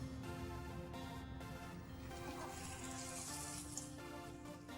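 Chopped onions, green chilies and tomatoes fry in a pan for an egg drop curry, giving a steady, close, continuous sizzle with no talking over it.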